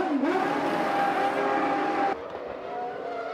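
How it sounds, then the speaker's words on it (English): Formula 1 race cars from the 1997 season pass at speed, with a loud high engine whine that rises, drops sharply as a car goes by, then builds again. "Damon Hill had worked his way well up the order, but Schumacher and Berger passed him."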